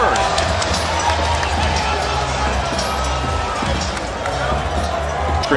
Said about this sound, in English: The crowd reacting as they get a glimpse of Gabriel Flores.